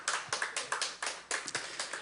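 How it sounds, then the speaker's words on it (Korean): A church audience claps together after a shofar-call demonstration, a brisk run of distinct, closely spaced hand claps in an uneven rhythm, fairly faint and with no voices. "박수."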